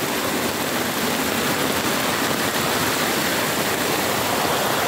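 A swollen, flooding river overflowing its banks gives off a dense, unbroken roar of rushing water, loud and steady throughout with no breaks or voices.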